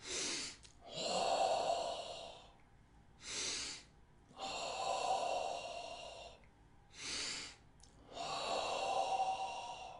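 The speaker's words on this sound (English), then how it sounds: "So, 3 cleansing breaths, which are then followed by the actual empowerment breath." Slow, deep breaths of a guided breathing exercise, each a long audible inhale and exhale through the nose or mouth, repeated several times in a steady rhythm, close and clear with no talking.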